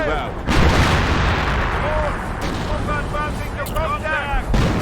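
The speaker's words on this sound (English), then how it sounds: "The artillery dropping down again, annihilating a huge chunk of my troops." An artillery barrage in the video game Company of Heroes, Operation Market Garden campaign, heavy sustained rumbling blasts filling the whole clip, loud and dense, with whistling shells overhead and a sharp impact near the start.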